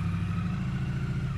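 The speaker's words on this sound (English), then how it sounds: "Already love the sound of that engine. It's got a very satisfying whistle." An updated Triumph Street Twin motorcycle idles steadily nearby, a low, even engine rumble with a faint whistle on top and no pauses.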